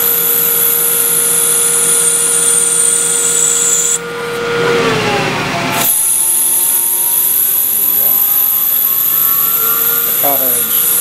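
A metal lathe uses a 2.3 mm parting blade to turn the outside diameter of a flanged part in 2 mm steps. The spindle whines steadily and a high cutting squeal rises and stops midway, with motor hum throughout.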